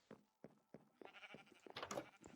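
Sheep in the Minecraft video game bleat in a series of short, quiet, evenly spaced cries, the later ones overlapping a little.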